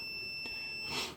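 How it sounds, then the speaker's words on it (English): A multimeter's continuity tester emits a steady high electronic beep while checking a stator winding, a continuous tone held close through the whole brief moment with no talk. "So we get continuity, we'll get a beep."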